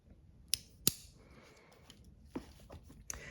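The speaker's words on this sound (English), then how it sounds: "you can even just sort of like hear them clicking if I like rub my fingers on them" Fingers rub across the thin tin or aluminum scales of a pocket knife, giving a few faint, sharp clicks spaced irregularly over a quiet background.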